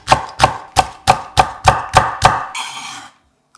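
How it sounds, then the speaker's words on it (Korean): A knife finely chops a halved cheongyang chili pepper on a cutting board, with eight crisp, evenly spaced thunks in quick rhythm followed by a brief rustle, all close and loud. "쫑쫑 썰어 담기"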